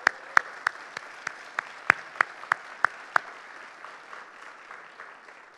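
Scattered, sparse claps ring out from a small conference audience thanking sponsors, about a dozen distinct slaps spaced irregularly over soft hand-clapping that tapers off.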